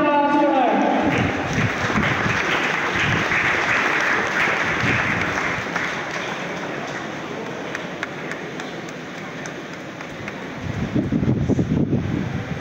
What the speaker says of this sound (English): Give a huge round of applause to her.